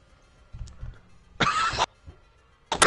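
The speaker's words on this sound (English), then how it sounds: "Smokers cough." A smoker's cough in a game, heard as a couple of harsh, close bursts after a low rumble, standing alone without talk.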